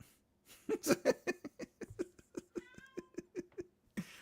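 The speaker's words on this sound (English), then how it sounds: "Ooh, the cat's awake." A cat meows repeatedly in a quick series of short, close, fairly loud calls, with no talking.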